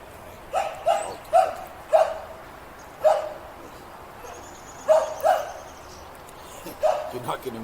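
A small dog gives a series of short, high yips and whimpery barks, spaced irregularly, close by, with a faint whistle-like tone in the background.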